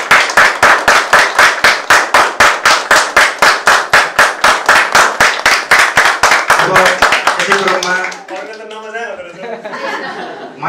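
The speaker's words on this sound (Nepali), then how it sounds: "कृपया जोरदार तालीले उहाँलाई अभिनन्दन गरिदिनु होला" Loud, rapid clapping from an audience at a closing ceremony for a ten-day training course, steady rhythmic applause for about eight seconds before fading into scattered laughter and murmuring.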